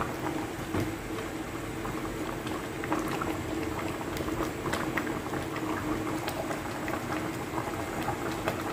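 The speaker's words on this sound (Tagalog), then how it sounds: "luto na po yung ating sinigang na ulo ng salmon" Sinigang with a salmon head bubbling steadily in a pot, a continuous close boil with small pops and seething, with no talking over it.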